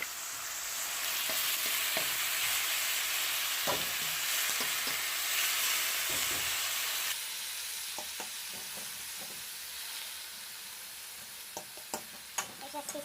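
Meat seasoned with lemon, garlic and ginger sizzles steadily in a hot pan, with spatula scrapes and clinks of stirring heard throughout, close and fairly loud.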